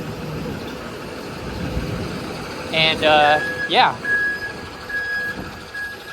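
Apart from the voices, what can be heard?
trucks in a busy New York City street, reversing beeps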